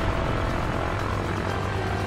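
Steady propeller-engine drone of a fighter plane in the PC game World of Warplanes, a constant close roar with no break and no voices.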